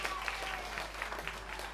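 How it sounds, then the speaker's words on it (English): Audience applause for a live band at a debut single launch performance, steady and fairly soft, with some voices mixed in. "Give a round of applause for the band before they even play."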